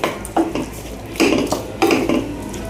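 Garlic prawns with chilli flakes are stirred in a metal pan, a spoon scraping and clanking against the pan in a few close, bright bursts, with no talk.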